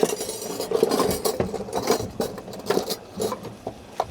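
Cutlery rattles and clinks repeatedly while someone rummages for a teaspoon in a home kitchen during veggie curry preparation. The metallic jingling is close, busy and continuous over a low background, with no speech.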